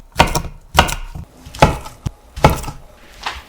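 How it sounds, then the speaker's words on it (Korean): A knife cuts about 500 g of Korean fish cake into bite-size pieces, landing five or six firm, hollow thunks on a wooden board at an uneven pace, with short silences between strokes. "500g 정도를 한 입 크기로 빚어 썰어서 준비해주세요"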